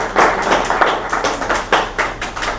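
Hospital staff applaud a doctor at a celebration, with a lively burst of scattered hand claps in uneven rhythm, close and fairly loud, no talking over it.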